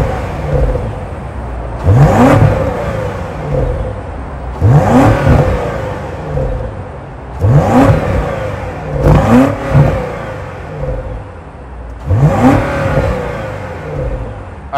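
A 2023 BMW 760i's 4.4-liter twin-turbo V8 with quad exhaust tips, revved repeatedly in loud, close bursts that swell and fall back to idle about five times, with no talking.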